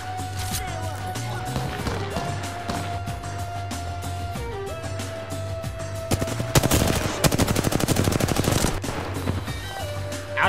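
Rapid bursts of video game gunfire, automatic rattles and single shots over game music and effects, building to a dense volley toward the end while a player talks excitedly.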